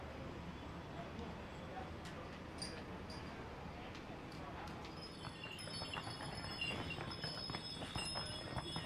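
Horses walking along a Santorini street, their hooves giving a faint, fairly distant clip-clop of irregular steps within steady outdoor background noise.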